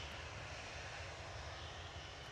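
Ryanair airliner jet engines roar steadily on departure from Manchester Airport, a faint, distant and continuous rumble with no voices over it.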